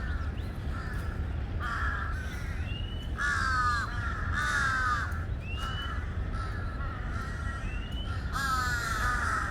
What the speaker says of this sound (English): The crows want a piece of it.